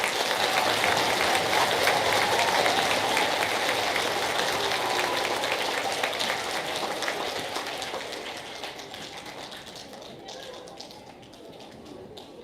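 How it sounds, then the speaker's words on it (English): A school crowd applauds veterans at an elementary Veterans Day program, loud dense clapping that fills the hall before tapering off toward the end, with a voice over it. "How about another big round of applause for our veterans?"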